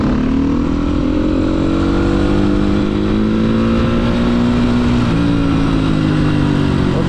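A motorcycle engine revs loud and close, holding a steady drone with a slight rise and fall in pitch for several seconds, with no voices over it.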